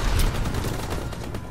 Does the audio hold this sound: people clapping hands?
no